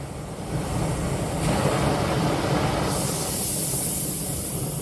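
An acetylene cutting torch burning with a steady, loud hiss that strengthens and brightens as the mixing chamber is opened, a continuous rushing flame noise with no talk.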